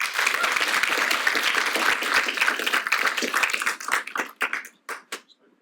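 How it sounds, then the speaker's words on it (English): Applause from an audience at a talk honouring Ethiopian Jewish heritage, a dense burst of many hands clapping that holds steady for several seconds, then thins into scattered claps and fades out. "Can we have a round of applause for her?"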